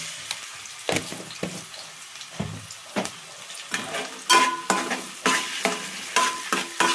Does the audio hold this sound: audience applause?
no